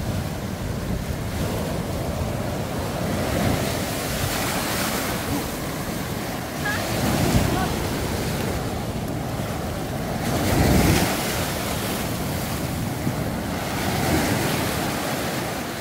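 Ocean surf rolls steadily onto Yonghwa beach, a continuous broadband wash with fuller swells breaking around the middle and late in the stretch, wind buffeting the microphone throughout.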